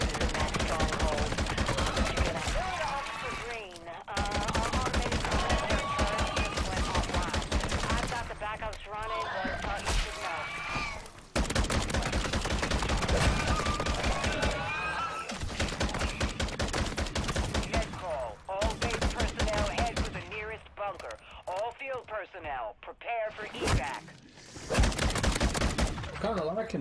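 Rapid rifle gunfire in the Modern Warfare 3 Zombies mode, loud, dense bursts of shots going on almost without a break, with short pauses between bursts and game noise and speech mixed in.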